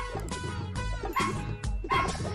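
A dog barks in several close, loud yips and woofs in quick succession, with a whimpering tone between them.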